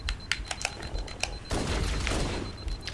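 Gunfire from a weapon in Halo CE Anniversary during co-op play: a string of separate sharp shots in the first half, then a denser sustained burst of blasts and rumble.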